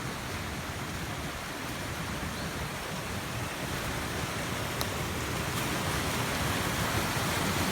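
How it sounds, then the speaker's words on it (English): Small mountain stream running swollen after rain, a steady broadband rush of water that stays nearly even throughout and builds very slightly, with no voices present. "This is the little stream on the mountain behind our place, Piney Mountain."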